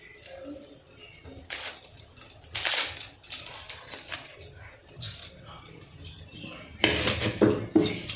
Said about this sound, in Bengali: ততক্ষণ আমি এদিকে বেরেস্তার পেঁয়াজগুলোকে কেটে নেব, ভালো করে কুচিয়ে কেটে নেব